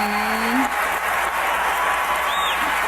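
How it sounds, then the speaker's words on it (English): A crowd applauding and cheering at the Grammys, a dense continuous wash of clapping that holds steady throughout, with a few faint tonal sounds rising above it. "The crowd went crazy."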